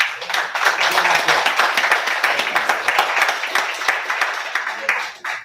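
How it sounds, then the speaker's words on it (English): A round of applause from the audience at a local candidates forum, broad and steady and lasting throughout, with crowd voices mixed into the clapping. "Let's give them all a round of applause"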